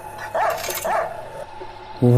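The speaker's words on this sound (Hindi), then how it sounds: "ये किस कुत्ते की भौंकने की आवाज आई?" Dogs bark outside a house in a Hindi horror audio drama: a couple of muffled barks from some distance, mixed with a voice and other background sound.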